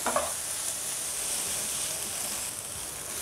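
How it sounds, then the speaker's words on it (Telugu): Tomato pieces, with capsicum, frying in a pan for egg noodles give off a steady, close sizzle that runs unbroken the whole time, with a brief stir at the start and no voices. "టమోటా ముక్కలు ఇలా అన్నీ యాడ్ చేసి బాగా ఫ్రై చేసుకోవాలి."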